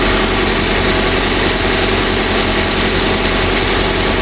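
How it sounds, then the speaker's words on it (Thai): The engine of a 2010 Toyota Altis 1.8E idles steadily, a loud, close and constant hum with no change in pace and no voices over it. "เดี๋ยวฟังเสียงเครื่องยนต์กันชัดๆนะครับ"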